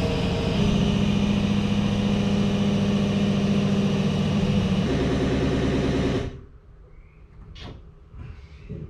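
An oil pump shaft on a 1961 Chevrolet engine is spun with a drill, a loud, steady whining drone lasting about six seconds before it cuts off, leaving faint clatter.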